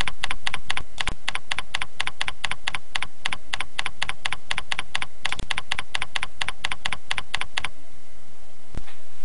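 Computer keyboard typing, a fast steady run of close, crisp key clicks for about eight seconds, then stopping with one last tap, with no talking.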